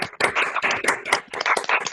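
Scattered clapping from a small group saying farewell to a doctor after a class talk, a few pairs of hands tapping unevenly in close, dry bursts for about two seconds.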